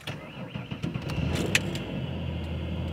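A manual BMW 335xi with a dead battery cranks and catches into a steady idle while hooked to a jump box. A few light clicks and rattles come first, then the engine starts and settles into a low, even rumble close by.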